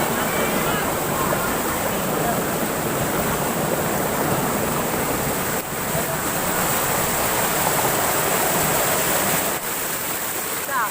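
Swopnakundu waterfall at Karuvarakundu roars in a dense, continuous wash of rushing water, loud and unbroken, filling the whole scene with a steady broadband hiss.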